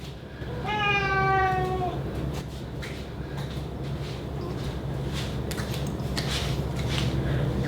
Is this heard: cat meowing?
yes